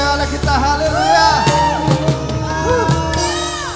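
A church congregation at a Sunday service at GBI Rock Bondowoso cheers and whoops loudly, a dense crowd of shouts and calls filling the space, with some speech mixed in.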